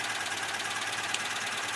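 A Citroen 2CV engine runs steadily and smoothly, a continuous mid-pitched mechanical drone with a faint rhythmic knock, heard close up with no voices.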